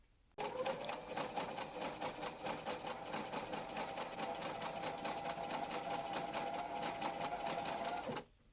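A freshly oiled Kenmore 148 sewing machine starts up and runs steadily for about eight seconds, its needle clattering in a fast, even rhythm over a motor hum, then stops abruptly.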